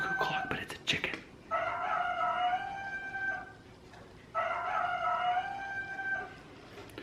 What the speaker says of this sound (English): It's a cuckoo clock, but it's a chicken.